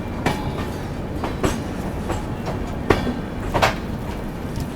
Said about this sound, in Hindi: अपने राइट टाइम 9:30 पर अपनी ट्रेन निकल चुकी है शाहगंज जंक्शन रेलवे स्टेशन से